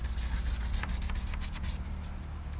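A truck's painted surface being hand-sanded with 220-grit sandpaper, giving rapid back-and-forth scratchy rubbing strokes at close range that ease into a softer, steadier scrubbing toward the end.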